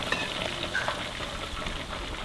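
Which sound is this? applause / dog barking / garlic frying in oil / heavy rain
garlic frying in oil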